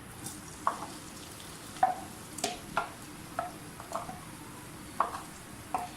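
Onions frying in cooking oil for qeema, a steady soft sizzle with light scraping and stirring ticks at an uneven pace, close by and with no talking.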